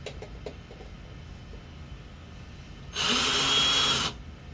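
A power tool whirs loudly for about a second while removing the upper nut during a fan replacement, preceded by a few faint knocks and quiet background.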